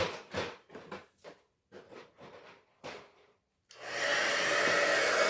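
Rustling, tapping handling noises come first, then an embossing heat tool switches on and blows hot air in a loud, steady whooshing hum that continues to the end.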